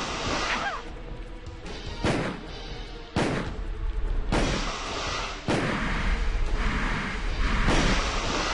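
Heavy magnum revolver shots in a Resident Evil game, five or six loud booming blasts spaced about a second apart, each followed by a lingering rumble, with no talk.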